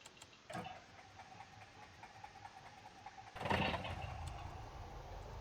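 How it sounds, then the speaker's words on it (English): A light aircraft engine in the X-Plane flight simulator cranks and catches, a short starter burst followed by a louder, steady running drone that carries on to the end, with no talking. "I think we need to crack the fuel a little bit more and start up the engine"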